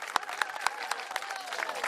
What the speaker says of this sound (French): Bonne main d'applaudissements pour Marie-Claude